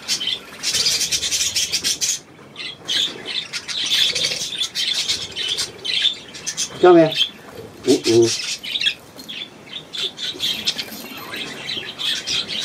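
A small gull calling amid busy squawking and chirping birds outdoors, with two short, sharp raspy calls standing out in the middle, while a person speaks quietly nearby.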